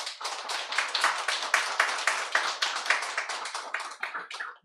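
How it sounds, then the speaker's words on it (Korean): Congregation in a church Sunday worship service claps in steady unison rhythm, welcoming the preacher with close, bright, evenly spaced claps that loosen and trail off at the end. "특별히 여러분들 큰 박수로 우리 환영해 주시면 감사하겠습니다"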